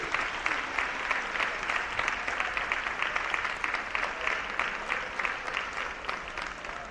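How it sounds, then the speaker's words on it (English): Sustained audience applause at a women's college basketball game, Saint Martin's versus Seattle Pacific, dense steady clapping for about seven seconds, fairly loud and even, with no talk over it. "Give a big round of applause."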